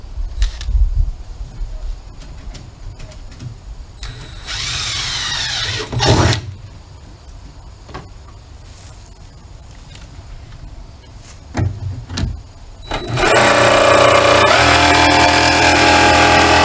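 A power tool cuts into a 55-gallon barrel, whining in short bursts around the middle before a loud, sustained grinding cut with metallic ringing near the end, close by, with scattered clunks and handling noise between.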